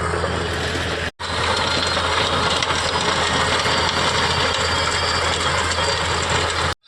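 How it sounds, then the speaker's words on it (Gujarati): A tractor works a farm field during ploughing, its engine running steadily and loud throughout, with a brief dropout near the start. "જુઓ ટ્રેક્ટર ચાલી રહ્યું છે"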